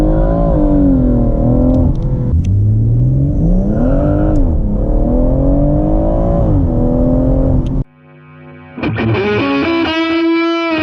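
BMW M140i launching hard under launch control, its engine roaring loud and close with rising pitch through the gears, a brief dip near the end before a high revving burst resumes.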